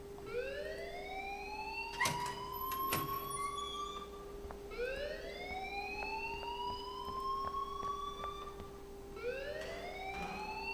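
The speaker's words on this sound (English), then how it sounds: "please turn off that alarm since that's your job" A fire alarm in the video game Life Is Strange wails in rising electronic sweeps, about every four and a half seconds over a steady tone. Faint clicks and thuds sit under it, and no one speaks.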